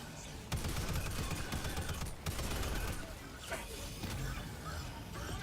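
Rapid video game gunfire rattles in sustained automatic bursts with brief pauses, moderately loud, while a player talks over the shooting.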